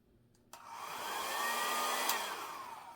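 A small hair dryer blows on a Dutch pour acrylic painting on a metallic background, switching on abruptly after a short silence and then whirring steadily at close range with a slight rise and fall in pitch.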